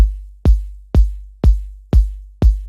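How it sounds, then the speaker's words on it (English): A layered kick drum with noise and textured layers, built for an orchestral downtempo track, thumps six times at a steady tempo. Each hit is a deep, loud boom with a crisp click on top and a short, full decay, with no voices. "So the kick in total sounds like this."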